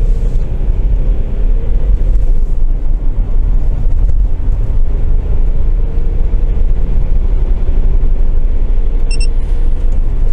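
A loud, steady engine roar with low rumbling and wind buffeting, as a Land Rover Discovery 3 with a 2.7-litre diesel engine accelerates continuously without any voices.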